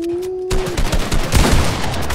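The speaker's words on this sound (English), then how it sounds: "They're shooting. They've gone rogue." Gunfire from henchmen in the Fortnite video game: a tone cuts off and a dense, loud burst of rapid shots follows, continuous and close, with no speech.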